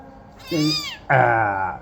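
A newborn kitten, orphaned at birth and about to be bottle-fed cow's milk, gives two close, loud meows in quick succession, the second longer and stronger.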